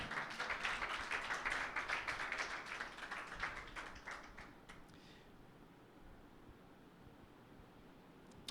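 A church congregation claps for Jesus Christ at a Sunday meeting, a dense patter of many hands for about five seconds before fading to quiet room noise.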